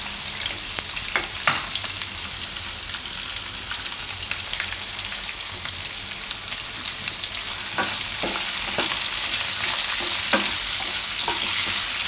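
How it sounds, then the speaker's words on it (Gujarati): Carrots fry in a hot pan for gajar mag pulao, a steady sizzle running throughout with scattered light scrapes and taps of a spoon stirring, close and fairly loud, with no talking. "એમાં આપણે નાખી દઈશું ગાજર. ગાજરને પહેલાં થોડીક વાર પાકવા દેવું."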